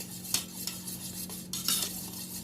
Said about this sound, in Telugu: ముందుగా పెరుగుని తీసుకొని చక్కగా బీట్ చేసుకోండి.